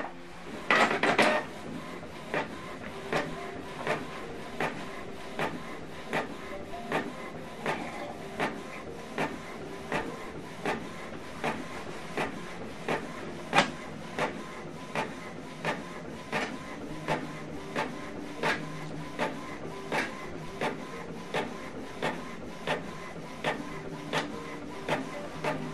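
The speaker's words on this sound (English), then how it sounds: "we are printing this on both sides" A printer running a black-and-white document double-sided, with steady repeated mechanical clicks and feed pulses across the whole stretch, plus a sharper burst at the start as the page is drawn back inside for the second side.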